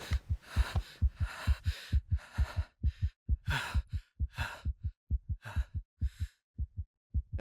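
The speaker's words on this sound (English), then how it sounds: "I don't like hearing the heartbeat that fast." A fast heartbeat sound effect from The Amazing Digital Circus thumps in a steady, rapid double-beat rhythm, loud and deep, with breathy swells over the first half that fade to bare beats.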